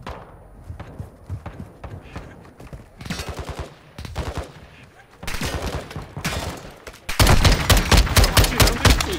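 Rapid gunfire in the video game Call of Duty DMZ, sharp repeated shots growing from scattered bursts into dense, loud continuous firing at close range.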